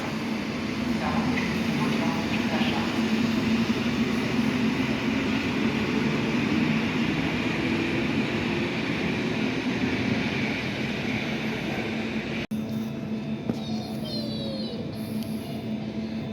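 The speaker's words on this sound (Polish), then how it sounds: "i odjeżdża pociąg do Gumiowic N67 1170." A train pulls out of the station toward Gumniowice, a loud, steady rumble and rolling rail noise that holds throughout, then shifts abruptly near the end as a higher squeal emerges.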